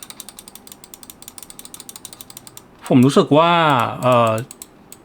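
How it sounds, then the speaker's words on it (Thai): Quick, crisp clicks from a RAWM Sa-Ml 01 mouse's stiff switches tick along in a steady rhythm, close up, then someone speaks briefly over them before the clicking carries on. "ซึ่งเป็นสวิตที่ออกแนวแข็งๆหน่ อยนะครับนี่เสียงกด"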